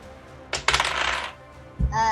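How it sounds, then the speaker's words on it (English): Two twenty-sided dice tumble and clatter across a table during a kids' Dungeons and Dragons game, a close rattling burst lasting under a second, followed by a brief soft thump. "Yes, both 20-sided dice."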